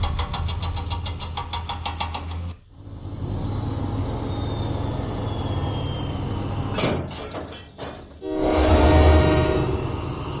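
A toy-style diesel train rolls along the track in a Thomas & Friends video game, its engine rumble steady and loud, with a clanking rattle near the start and a brief horn-like burst later on.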